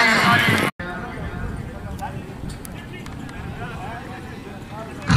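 At a 2016 Neza Bazi tent-pegging event in Noor Pur Thal, a galloping horse's hooves beat out quick, rhythmic thuds beneath a loud announcer's commentary and crowd murmur.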